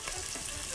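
Pork ribs sizzle in a hot pan with a little oil, a steady dense hiss of frying with no talk, quiet and brief.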